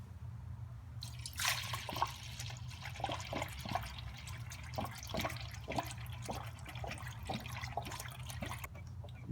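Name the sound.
pouring Prestone coolant into Nissan 350z radiator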